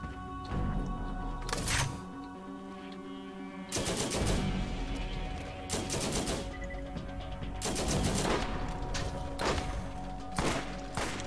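Gunfire in the Borderlands co-op shooter game: sharp bursts of rapid shots and heavy single cracks repeat every second or two over a low game background. No talk.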